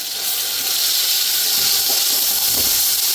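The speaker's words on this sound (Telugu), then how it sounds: "ఇప్పుడైతే కనుక మనం అల్లం వెల్లుల్లి పేస్ట్ కూడా వేసేసుకుని కొంచెం పచ్చివాసన పోయే వరకు ఫ్రై చేసుకుందాం" Ginger garlic paste frying in hot oil gives a loud, dense, continuous hiss that sits close and unbroken for a few seconds, with no voices.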